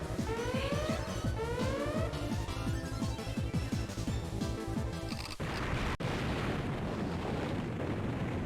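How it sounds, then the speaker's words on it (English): A dam exploding in the handheld video game Power Pro Kun Pocket 3, loud rumbling game blasts over repeating chiptune tones, then a sharp crack and a continuous roaring crash. "This dam's about to explode."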